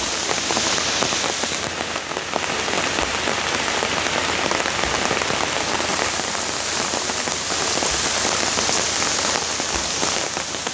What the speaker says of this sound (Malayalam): അടങ്ങാനും പോയാ മഴ.